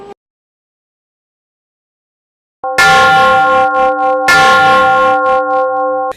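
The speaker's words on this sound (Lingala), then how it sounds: "Ngonga ebeti." A bell chime rings out loudly after a stretch of near silence, two bright resonant strikes with sustained ringing tones that hang on until the end.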